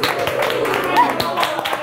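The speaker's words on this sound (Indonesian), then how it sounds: "Tepuk tangan untuk editor kita, guys." A small group claps in a casual indoor talk-show setting, scattered sharp hand claps rising over ongoing chatter and voices that stay louder than the clapping.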